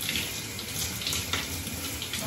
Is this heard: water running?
yes